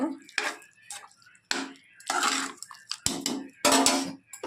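A spoon scrapes and clinks against a pot while bottle gourd kootu is stirred after salt goes in, in short uneven bursts of scraping and knocking separated by brief pauses.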